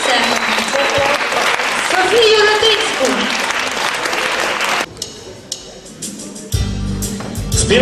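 Audience applause at a concert in Mukachevo, loud sustained clapping with crowd voices for about five seconds, then cutting to quieter sparse sounds and a low musical hum.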